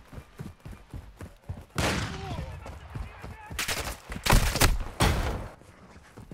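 Gunfire in the DMZ video game: bursts of automatic shots, with several loud volleys clustered near the end, over a busy background with speech-like sounds.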